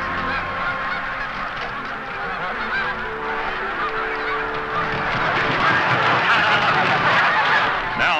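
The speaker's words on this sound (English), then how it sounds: "Here's the first Canada geese." A flock of Canada geese honks loudly and continuously, many overlapping calls nearby, growing busier and denser toward the end.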